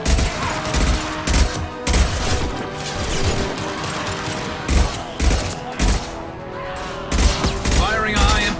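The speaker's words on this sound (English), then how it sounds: "Firing a high-impact shot." Gunfire from a squad firefight in Mass Effect 2, sharp repeated shots and bursts cracking over a dense, busy game soundscape, with a few heavier impacts spaced through the scene.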